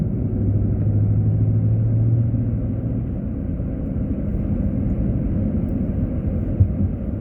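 A 2015 Chevrolet Silverado pickup accelerates hard on an asphalt road, giving a deep, steady engine rumble and road roar from inside the cab, with a brief low tone early on and no talking.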